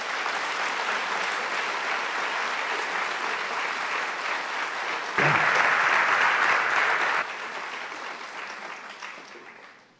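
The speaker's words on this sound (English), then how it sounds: "Please give them a round of applause." A school audience applauds athletes at a senior awards ceremony, a steady, dense wash of clapping that swells louder in the middle and then tapers off toward the end.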